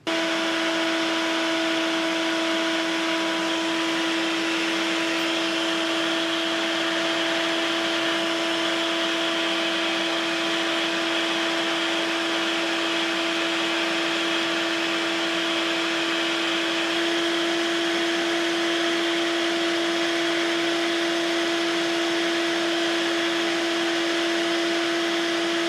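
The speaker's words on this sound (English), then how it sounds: "Here's the shop vac we're going to use." A 6-horsepower-peak shop vac runs continuously at close range, a loud steady motor whine with a strong airy rush that never changes for the whole stretch.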